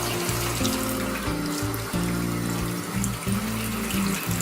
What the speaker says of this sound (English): So I just fill it up with cold water.